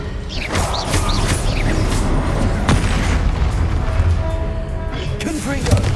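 A Confringo spell explosion in Hogwarts Legacy booms loudly amid a busy battle of spell casts, whooshes and crashes, with a voice speaking over the dense, continuous noise.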